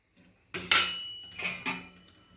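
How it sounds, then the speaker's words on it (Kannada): Dry rice roasting in a metal pot, stirred with a utensil in a few sharp bursts of clattering and scraping separated by short pauses, close by and alone. "ಇವಾಗ ಅಕ್ಕಿ ಹುರ್ಕೊತಾ ಇದ್ದೀನಿ."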